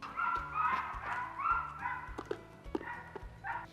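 Dogs bark and yelp from a short distance, with whining, whimpering cries mixed in, fairly faint, over a low steady hum.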